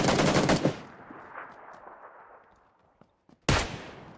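Gunfire in the video game PUBG PC Lite: a loud rapid burst of automatic shots, a quieter tail with a few faint distant pops, then another loud burst at the end, with no talking.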